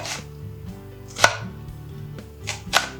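A knife slices red onion into wedges on a cutting board, giving several crisp chopping thuds at an uneven pace. Two of them land much harder and louder than the rest.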